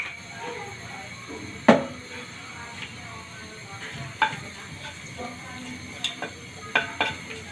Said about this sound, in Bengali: তেলের মধ্যে একটু চিনি দিয়ে দিলাম।